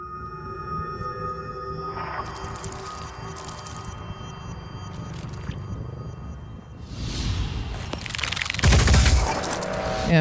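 Gunfire bursts in the turn-based video game Phoenix Point, a few sharp cracks and rattling volleys amid whooshing game effects, loudest toward the end.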